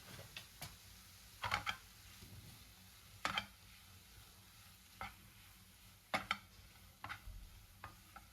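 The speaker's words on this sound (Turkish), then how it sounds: "kıymamı ekledikten sonra da biraz karıştıracağım ve pişmeye bırakacağım" Minced meat being stirred in a pan for a meat-sauce pasta, with a low sizzle underneath and occasional scraping and tapping of the utensil against the pan at irregular intervals.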